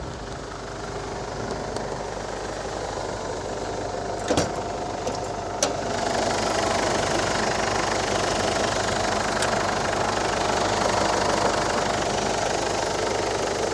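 A 2009 Ford Ranger 2.5 diesel pickup engine idling steadily, a deep rumbling drone with a faint knock, close and constant, with a couple of brief clicks early on.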